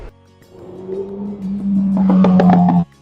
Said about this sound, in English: A lot of bikes and cars with crazy exhausts